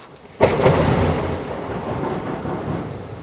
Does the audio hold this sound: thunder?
yes